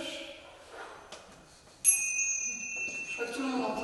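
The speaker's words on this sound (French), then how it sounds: "On a un gong, si je puis dire, c'est plutôt des petites cloches." Small bells rung as a time signal give one bright strike that keeps ringing clearly, with murmuring voices and room noise around it.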